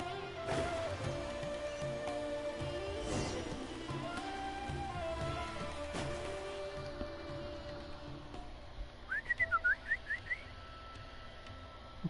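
Short bright bird chirps and whistles from a Genshin Impact game scene, a quick burst of several rising tweets near the end after a long stretch of quiet ambient game music and background tones.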